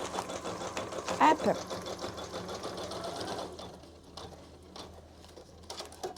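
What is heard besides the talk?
Janome Memory Craft 1000 embroidery machine stitching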